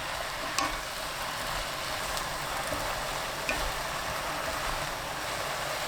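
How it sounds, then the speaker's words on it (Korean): Shrimp, onion and shiitake mushrooms stir-frying in a pan, a steady even sizzle with faint crackles and a couple of small clinks, close and continuous with no talk. "새우살, 양파, 표고버섯 넣고 2분 볶습니다."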